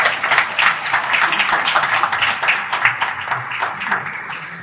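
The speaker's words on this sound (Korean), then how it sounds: "큰 박수 한번 부탁드리겠습니다" An audience at a general assembly meeting applauds, a loud, dense burst of many hands clapping that holds steady throughout with individual claps standing out, then gradually eases.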